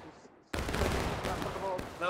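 A musket volley rings out in the Civil War game War of Rights, a sudden loud burst of overlapping shots that rolls on as a sustained crackling roar. Shouted voices can be heard around it.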